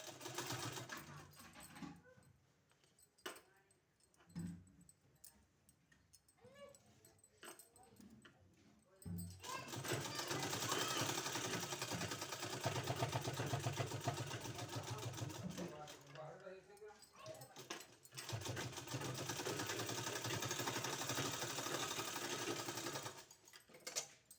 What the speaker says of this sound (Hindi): बैठाने के बाद हमको इस तरह से फोल्ड करना है और इसमें हमको इस तरह से सिलाई लगा देना है।